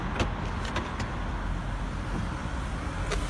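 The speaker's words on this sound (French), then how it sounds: "je ferme la voiture" An Infiniti G37S being closed up, its power windows whirring with a few short mechanical clicks and thumps over a steady, close background hum.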